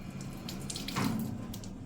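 Tap water runs for wudu ablution, a close, steady splashing stream with a brief surge as hands move through it, no voices over it.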